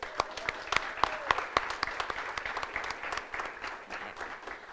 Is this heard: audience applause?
yes